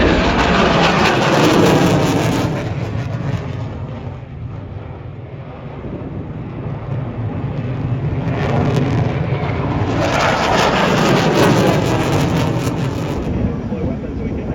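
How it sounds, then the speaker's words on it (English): Military jets roar through a simulated low straight pass with flares at the Avalon International Airshow, a loud broadband rush that swells, dips mid-pass and builds again, with wind buffeting the microphone. "So we've got Glib and Bam Bam rolling in now for a simulated straight pass with some flares popping out"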